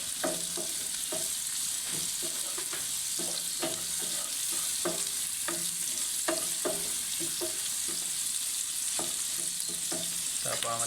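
Oil with turmeric, cooking for bitter gourd fry, sizzles steadily and loudly in a pan, with regular scraping taps from stirring throughout and no voices.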